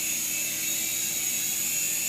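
Syma S107H toy RC helicopter flying around a room, a thin, steady high-pitched rotor and motor whine, continuous and fairly close, with no talk.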